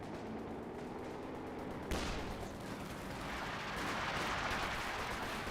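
Company of Heroes 2 battle audio during an incendiary mortar barrage: a sharp impact lands, then a rolling roar of fire and blasts swells over steady low battlefield rumble, moderately faint.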